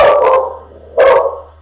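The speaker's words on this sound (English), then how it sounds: "That's my dog barking in the background." Two sharp, loud barks from a small pet dog indoors, spaced about a second apart, over a steady low electrical hum with no talking.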